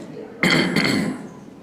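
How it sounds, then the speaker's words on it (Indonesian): A single harsh cough bursts out close by, followed by a second rougher hack, then trails off into breathy throat noise. "Saya mohon maaf kok banyak batuk."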